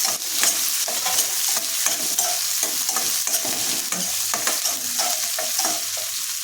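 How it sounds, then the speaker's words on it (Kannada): Onion fries in a pan for pepper rice as a spoon stirs and scrapes repeatedly over a steady close sizzle, with no talking. "ಈ ಹಂತದಲ್ಲಿ ತಗೊಂಡಿರುವಂತಹ 1 ಈರುಳ್ಳಿನ ಸೇರಿಸಿ ಇದನ್ನು ಸಹ ಇಲ್ಲಿ ಹುರಿತಾ ಇದ್ದೀನಿ."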